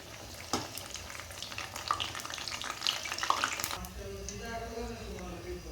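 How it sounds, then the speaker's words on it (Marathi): Crispy corn cutlets frying in a pan, turned from side to side, with a steady oily sizzle and a few stirring and scraping noises, then a quieter, smoother crackle near the end. "आलटून पलटून आपल्याला दोन्ही बाजूनी एकदम व्यवस्थित तळून घ्यायचे आहेत आपले कटलेट्स"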